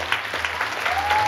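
Applause for a children's performance group at a school celebration, steady dense clapping from an audience throughout, close and continuous.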